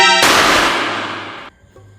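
A firecracker blast set off as a temple vedi offering, one loud close bang with a long decaying roar lasting over a second, then quiet.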